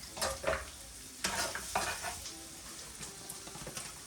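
Garlic frying in a pan for pata tim in a home kitchen, a steady close sizzle broken by a few scraping stirs near the start, with no voices.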